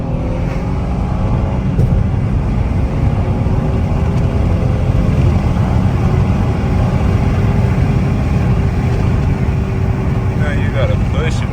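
A Ford Taurus SHO twin-turbo engine runs steadily, loud and close, with faint turbo whistle tones rising over the rumble while someone talks over it.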